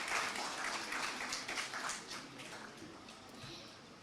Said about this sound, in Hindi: तालियां बजाइए प्लीज.